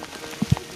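Hail falling outdoors in Gürgentepe, Ordu, Turkey, with sunshine nearby: a soft steady patter broken by a few sharp, close thuds of stones striking a surface within less than a second, no voices.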